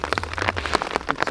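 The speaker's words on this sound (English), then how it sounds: "it is starting to hail on us now" Hail falls in the Colorado back country, rapid irregular pattering impacts close by, dense and fairly loud over a brief moment with no voices.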